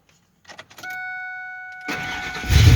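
A Ford F250 pickup with starting issues cranks and fires up after a few clicks and a high electronic tone, then catches with a louder engine roar near the end, close by and without talk.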